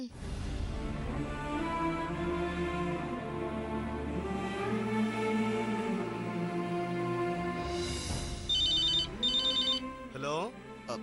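A telephone rings for an incoming call in a Tamil TV drama scene. The chiming ring tone plays near the end over background music and voices.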